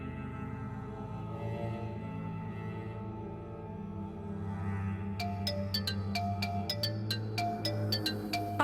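A phone ringing in a home scene of a Hindi TV serial, a repeating bright electronic ringtone pattern entering midway over a steady musical background score.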